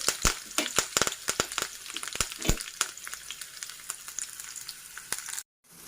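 Chopped onion and curry leaves frying in hot oil, a steady bright sizzle broken by sharp crackles and spatters, close and loud, cutting off abruptly near the end.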